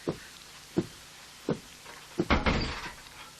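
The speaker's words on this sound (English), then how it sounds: "have you closed the door?" A classroom door is shut, heard as several soft thuds and knocks followed by a louder clunk as it closes, fairly quiet with no talk.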